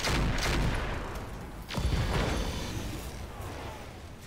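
Mech weapons fire in a video game, including autocannons, as a dense volley of booming gunfire with a sharp second salvo midway, loud and rumbling throughout.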